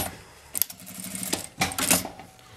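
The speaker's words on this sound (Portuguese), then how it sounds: "Vou posicionar ela aqui do lado de dentro e passar uma costurinha pra segurar." Sewing machine stitching a fabric strip in place while making a charger and earphone holder, heard as a few short, close mechanical bursts separated by quiet pauses.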